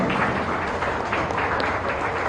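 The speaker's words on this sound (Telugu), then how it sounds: "ఒక్కసారి లేచి నిల్చొని చప్పట్లు కొట్టండి" An audience at a Gōṣṭhāṣṭamī temple gathering claps together in steady, dense applause, sustained and close throughout the short stretch.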